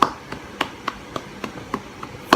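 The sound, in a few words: hand clapping applause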